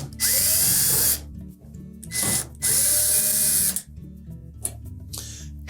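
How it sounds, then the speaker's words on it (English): A power drill removes screws from the top of a Samsung dryer's panel, whining in three loud bursts with rising pitch, separated by short pauses of handling and clicks, close to the listener. "Now, next we'll remove the screws across the top."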